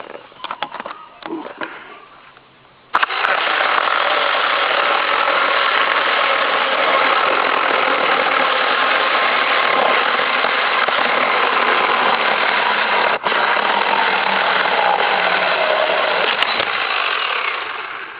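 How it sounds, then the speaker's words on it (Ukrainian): Cordless saw cutting through oak: after a few seconds of quieter handling noises, a loud, steady motor whine with the rasp of blade biting wood runs continuously, briefly dipping once before resuming. "Бачите, пила з тим впоралась, хоч і відчувається, що їй те важко."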